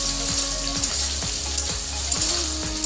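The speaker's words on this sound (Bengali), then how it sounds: "এবারে আমি একটা আলু দিয়ে দেব। আলুটাকে আমি ডুমো ডুমো করে কেটেছি।" Diced potato cubes frying in hot oil with cloves and whole cumin for a Bengali cabbage curry, giving a steady close sizzle with periodic scraping clicks of a spoon stirring the pan.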